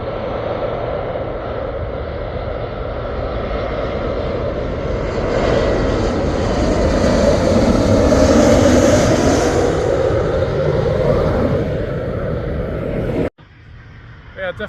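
An airplane passes overhead near Gatwick, a broad, loud engine roar swelling toward the middle and holding steady before cutting off abruptly, with the steady rumble continuing quieter afterward.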